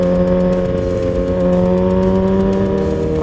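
A superbike on a morning road ride warms up cold tyres, its engine droning loud and steady with a slowly rising tone, heard close and continuous without talk.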